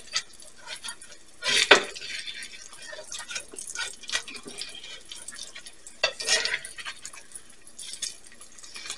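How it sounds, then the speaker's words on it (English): Eggs flipped with a fish turner in a dirty cast iron pan: two sharp scraping, clinking bursts of metal on iron a few seconds apart, with soft sizzle and kitchen clatter between, close and moderately loud. "This is always the big challenge, is flipping the eggs."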